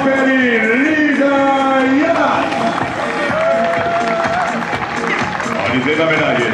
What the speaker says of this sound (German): einen großen Applaus für unsere alte, neue deutsche Meisterin aus Berlin